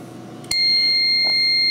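A CCTV alarm triggered by a PIR sensor through a DVR output and relay starts with a sudden click, then a loud, steady electronic tone with a high whine holds without a break.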